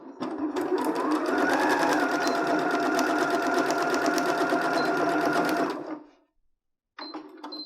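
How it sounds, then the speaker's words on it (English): Sewing machine stitching a fabric face mask, a steady loud mechanical whir running for about six seconds, then a short pause before it starts up again, with no talk. "Start at the edge and don't forget to backstitch."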